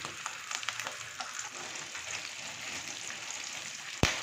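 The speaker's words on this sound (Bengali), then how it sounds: "এই যে মাছের ডিমটা ভাজা হচ্ছে" Fish roe frying in mustard oil gives a steady, close crackling sizzle with no talk, broken near the end by one sharp utensil clack.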